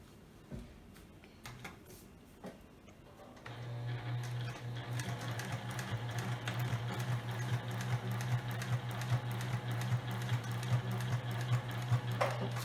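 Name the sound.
sewing machine stitching fabric seams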